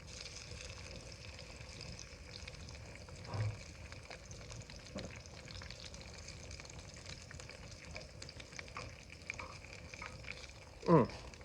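A potato sizzles steadily in hot grease in a cast iron pan, a soft continuous crackling hiss with a few light clinks and a brief clatter near the end.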